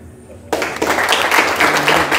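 After a quiet start, an audience at a school celebration breaks into loud, close applause that continues steadily to the end, with a faint voice beneath it.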